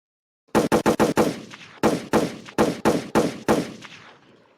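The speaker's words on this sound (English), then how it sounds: "It's a lot of gunshots, a lot of shots fired." Rapid bursts of gunfire, three quick volleys of sharp loud shots fired in fast succession, each ringing out with a short echo tail.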